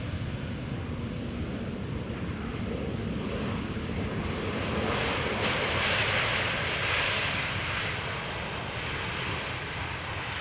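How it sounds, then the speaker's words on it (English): An EasyJet Airbus A320neo jet, five years old, arrives at Amsterdam Schiphol from London Gatwick: a steady, loud engine roar that builds slightly in the middle and holds, with some wind rumble. "EasyJet A320neo arriving from London Gatwick."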